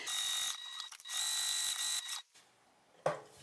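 A sewing machine stitches fabric along a curve, running in two longer bursts and then a short final spurt, close and clear, with no one speaking.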